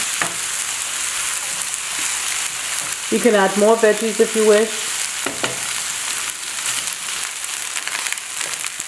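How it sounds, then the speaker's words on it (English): Steady broadband sizzle of fried rice frying in a pan, with a brief spoken line in the middle and stirring noises throughout. "you want to hear that sizzling at the bottom"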